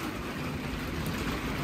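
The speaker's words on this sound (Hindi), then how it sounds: "बारिश आ गई है" Rain falls steadily with a continuous, even hiss at moderate volume. There are no voices.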